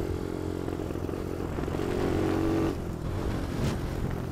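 A motorcycle engine with its fuel tap shut off runs unevenly and sputters, a steady, close, loud rumble with a brief sustained tone midway and a rougher tail, heard alone without talk.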